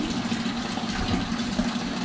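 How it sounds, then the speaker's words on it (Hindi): Water poured from a bucket into a washing machine at home, a steady low gushing and sloshing that is close and continuous for a couple of seconds, with no talking. "अब बाल्टी से ही पानी डालना पड़ेगा वॉशिंग मशीन में,"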